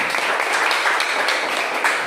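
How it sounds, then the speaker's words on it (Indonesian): A steady wash of clapping from a group of students in a classroom, continuous and fairly loud for the whole stretch, with no voices standing out. "berikan tepuk tangan buat teman-teman"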